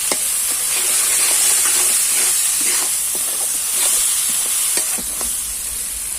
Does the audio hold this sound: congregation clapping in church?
no